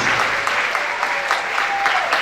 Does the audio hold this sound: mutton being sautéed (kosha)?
no